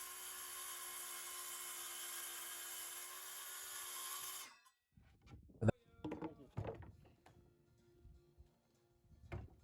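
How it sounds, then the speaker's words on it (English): A table saw rips a sheet to width against the fence, its steady loud whirring roar running for about four seconds before cutting out, followed by scattered knocks and thunks of workshop handling. "I then used the factory edge to line up against the fence of my table saw, and then ripped it to the exact width I needed"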